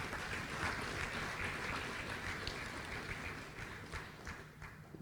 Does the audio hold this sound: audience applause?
yes